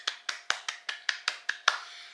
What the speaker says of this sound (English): Can we get a round of applause for Miss Rita?